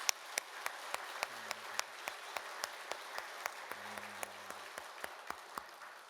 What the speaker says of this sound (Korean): 그 좋으신 하나님께 우리 감사로 영광의 박수를 한번 올려드리겠습니다.